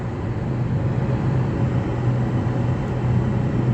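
Traffic on Kuwait's Road 6 highway rushes past as a dense, continuous low roar of tyres and engines, loud and unbroken throughout, with no voices.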